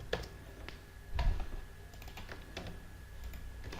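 Rapid keystrokes on a computer keyboard while PHP code is entered, a steady run of close clicks with a slightly heavier burst of taps near the middle.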